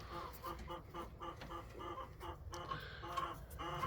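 Backyard flock of chickens, including meat birds, clucking repeatedly in a coop during an evening check, soft close bursts of clucks in an uneven rhythm over low background noise.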